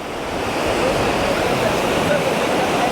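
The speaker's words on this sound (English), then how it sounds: "This is probably one of the more famous beaches here in Gran Canaria." Waves wash continuously on a well-known beach at Playa del Ingles, Gran Canaria, giving a steady, loud broadband surf roar with faint wind buffeting and no clear break between swells.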